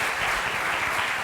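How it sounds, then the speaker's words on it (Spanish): Brief applause from an audience at a talk on forensic linguistics, cybercrime and AI, a steady burst of many hands clapping close to the recorder. "Un aplauso para usted."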